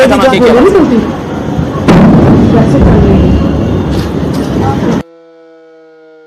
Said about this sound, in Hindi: ये धमाके की आवाज भी आप सुन सकते हैं